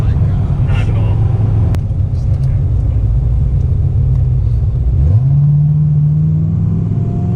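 A Corvette Z06 engine rumbles loudly and steadily close by, its deep low drone holding throughout, with a sharp transient near the two-second mark and a rise in pitch after five seconds as the revs climb.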